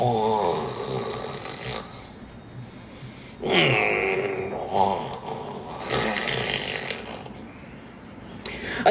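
A voice imitates a person snoring in stages, making drawn-out nasal rumbles and moaning groans that rise and fall across several breaths, close and fairly loud, with brief breaks between the snore sounds.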